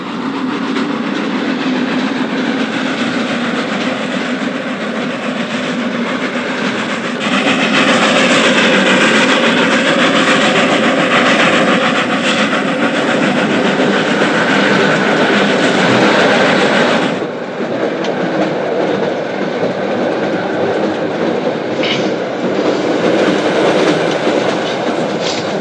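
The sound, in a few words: train running on rails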